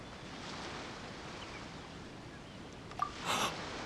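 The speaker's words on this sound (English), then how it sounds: "Oh, and the sound of the waves." Ocean waves in the Genshin Impact game wash as a soft, steady surf hiss with a little wind, a brief brighter splash near the end, and no talking.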